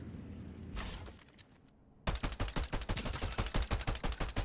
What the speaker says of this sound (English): I was shooting the front one there